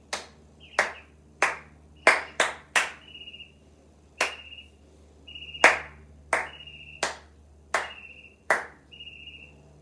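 Hands clap a steady rhythm during a music lesson on a Beethoven violin concerto theme in F major, about a dozen sharp, close claps with short gaps and the final one held longer, alone with no talking.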